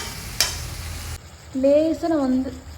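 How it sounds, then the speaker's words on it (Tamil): A brief sizzle of vegetables stir-frying in a hot pan, followed by a voice speaking over a quieter frying background. "இந்த ஸ்டேஜில் வந்து நம்ம ப்ரொக்கோலி ஆட் பண்ணிக்கலாம். போட்டுட்டு இந்த மாதிரி கொஞ்சம் நல்லா லேசாக பரட்டி விட்டுக்கலாம்."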